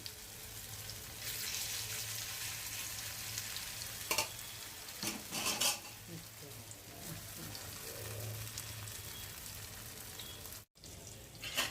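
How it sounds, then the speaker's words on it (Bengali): Peyaju, onion fritters, frying in hot oil for an iftar meal, a steady broad sizzle running throughout with a few brief louder bursts of stirring or clatter. "পেঁয়াজু ভেজে নিচ্ছি"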